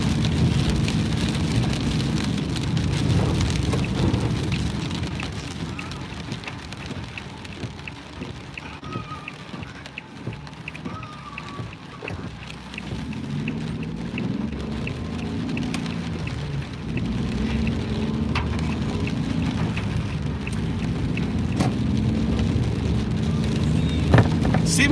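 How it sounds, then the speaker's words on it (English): Steady rain pours down without a break for the whole stretch, a dense, even hiss of drops that dips slightly midway, with no voices over it. "It's raining."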